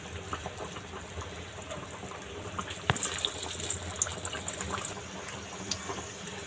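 Konkan-style kombdi vade, fried flatbreads, cook in hot oil with a steady, dense hiss and crackle that flares slightly midway and then carries on evenly.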